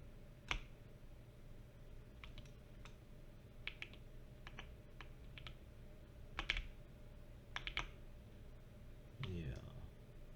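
Sparse computer keyboard key presses and mouse clicks during 3D modeling of a JBL speaker, heard as scattered short clicks in small clusters over a steady low hum, with no talk.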